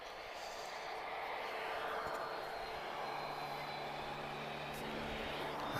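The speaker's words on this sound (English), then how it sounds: "This is a 737-800. She's flying to Paris Orly" Transavia France Boeing 737-800 airliner bound for Paris Orly at Lisbon Airport: a continuous engine roar with a whining tonal hum, moderately distant and steady, no speech.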